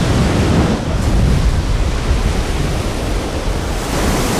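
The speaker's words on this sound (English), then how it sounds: "Winds now regularly reach 70 miles an hour." Strong wind on the Antarctic coast, a loud, steady roar of gusting air buffeting the microphone without a break, with no voices.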